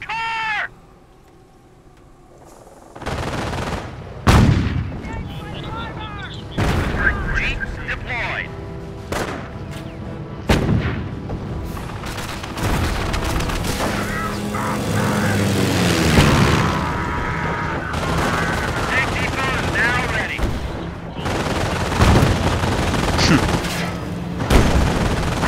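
Gunfire and explosions rattle in the video game Company of Heroes: a loud boom, then scattered shots, bursts and blasts over a continuous battlefield din with voices talking.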